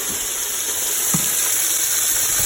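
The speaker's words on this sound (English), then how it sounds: "Meat's toasting along nicely." Beef sizzling steadily in a hot pan for a ragu, a continuous bright frying hiss with a few soft knocks, close and fairly loud, no talk.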